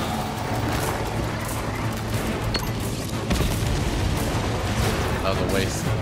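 A melta bomb going off in Warhammer 40,000: Space Marine II brings a dense clatter of gunfire and booming blasts, with a heavier impact midway through the noisy battle.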